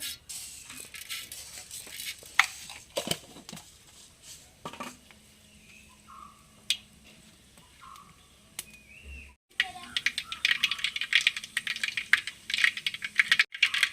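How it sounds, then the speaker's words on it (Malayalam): Mustard seeds hit hot coconut oil in a pan. After a quieter stretch of faint kitchen clatter, a dense burst of sharp, rapid crackling and popping starts and continues, close and lively. "വെളിച്ചെണ്ണ ചൂടായിട്ടുണ്ട് കടുക് ഇട്ട് കൊടുക്കാവേ"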